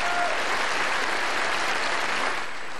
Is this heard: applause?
yes